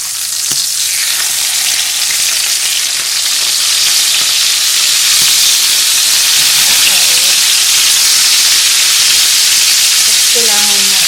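Steak sizzles in a hot pan, a steady broadband hiss and crackle of frying that runs loud and continuous throughout, with a few faint clinks and brief tonal sounds near the end.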